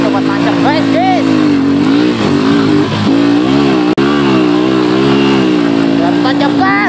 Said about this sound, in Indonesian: Coba tancap gas, guys.